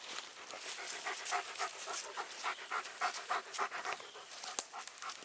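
Several dogs pant rapidly and close by in an outdoor yard where a tree is being delimbed, a steady quick breathing rhythm with a few sharp snuffles throughout.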